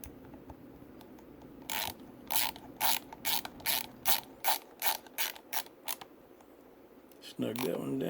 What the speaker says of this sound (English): Make sure I get the other one started before I tighten them both up.